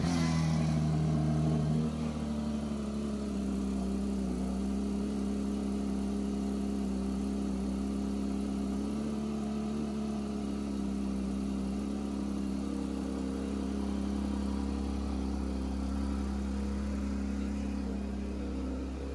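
A new Porsche with a naturally aspirated engine idles steadily at a Porsche dealership in Levallois, giving a constant low hum with no revving, heard close and alone without talk.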